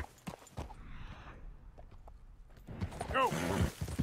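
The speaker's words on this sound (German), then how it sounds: "Das sind zwei Pferden, ne?" Horse hooves clip-clopping in Red Dead Redemption 2, two horses walking nearby in soft irregular beats, mixed with game ambience and someone talking over it.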